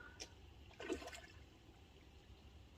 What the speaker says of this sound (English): There was a big splash then, big koi just coming up in the swim.